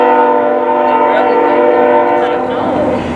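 A passing train in Calumet City sounds a loud, sustained horn chord over rumbling rail noise, the tone holding strong before easing slightly as it moves on.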